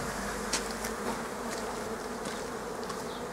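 Honey bees swarm around hive frames in an apiary, a steady, dense buzzing drone that stays even and close throughout with no voices.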